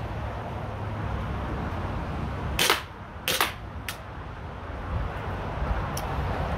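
A WE Tech M&P9 gas airsoft pistol fires a few sharp cracks, two close together then a third, followed by a fainter shot, over steady outdoor background noise.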